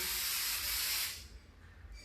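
An aerosol spray can hisses while fixing a wooden wall molding strip in place, a steady bright burst of about a second up close, then fading to quiet room noise.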